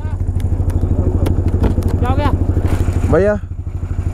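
A motorcycle engine labours as the vehicle struggles to pull, throbbing steadily up close while people talk over it.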